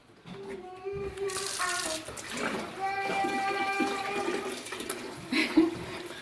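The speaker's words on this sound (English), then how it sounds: "we can top up to 23 liters or 6 US gallons with cold tap water and stir well" Cold tap water runs steadily into a fermenter being topped up for a Mangrove Jack's apple cider brew, a continuous splashing flow with a young child singing in high tones over it.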